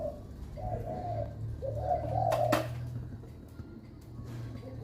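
A caged dove, a decoy bird of the large Thai dove type, gives several low mellow coos, with a brief sharp flutter of wings in the middle, close and clear over a quiet low hum.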